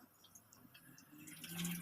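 Water from a shower fed by a newly installed instant water heater runs at home, a faint, steady splashing hiss that grows slightly louder toward the end of the short stretch.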